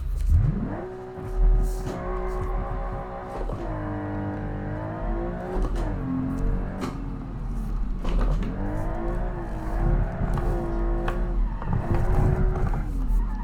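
A naturally aspirated, Porsche 911-inspired APOLO S36 Group B rally car on a test run in the Automation game: the engine revs up and down repeatedly through gear changes, loud and close, with occasional tyre squeal.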